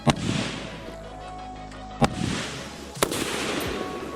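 Three sharp gunshots fired at a Miller Lite can ring out outdoors, one at the start, then two more spaced about a second apart, each a loud crack with a short echoing tail over a low background hum.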